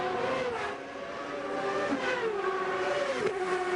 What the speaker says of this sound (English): Up through the sequential gearbox, pull back to go up a gear, push forward to go down a gear.